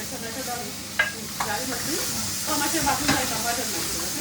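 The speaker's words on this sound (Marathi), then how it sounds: "टमाटर डाल रहे हैं" Tomatoes tipped into onions frying in oil for a Goan prawn curry, a close sizzle and hiss with stirring clatter and a few sharp spatula knocks.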